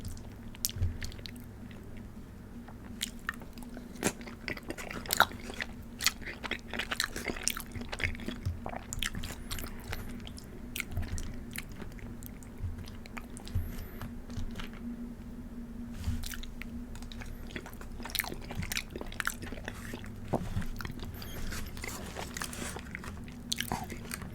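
Jamaican jerk chicken alfredo pasta is eaten up close for a mukbang, with continuous wet chewing, soft squishes and occasional crunchy bites over a faint steady background hum.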